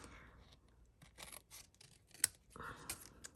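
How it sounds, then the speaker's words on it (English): Scissors give a quick snip while trimming a small piece of paper card for a Christmas card project, one sharp close cut amid soft rustling and handling sounds, with no talk. "And then I have just a little bit that I can snip off. Grab my scissors here."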